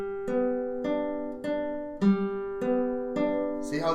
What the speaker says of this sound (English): See how the strings keep ringing?